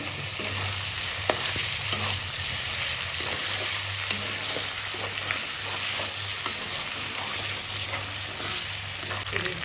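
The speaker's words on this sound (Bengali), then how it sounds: "চিকেনটা আমি ভালো করে ভেজে নেব" Chicken pieces frying in a pan for chicken tehari, a steady close sizzle with occasional stirring clicks and a low hum running underneath throughout.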